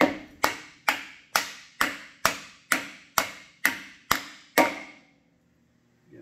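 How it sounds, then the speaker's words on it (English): An axle bushing for a Pistenbully 400 park is tapped into place with a wooden handle. Eleven sharp, evenly spaced knocks come about half a second apart, close and crisp, followed by quiet. "And give it a gentle tap with the wooden handle."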